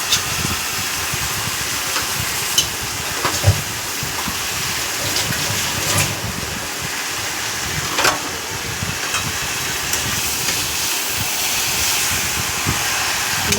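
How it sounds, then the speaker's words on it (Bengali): Meat being stir-fried with spices in a wok, a loud steady hiss and sizzle throughout with occasional clacks and scrapes of a utensil against the pan. "কষিয়ে দিচ্ছি একদম কড়াইতে ভালো করে।"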